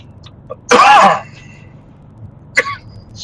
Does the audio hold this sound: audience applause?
no